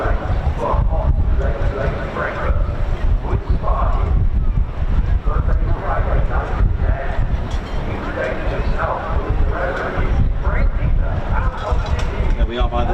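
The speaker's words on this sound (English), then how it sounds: "A little bit windy up here." Strong seaside wind buffeting the microphone from a glass balcony during an air festival, a loud continuous roar with gusts, and a voice speaking over it.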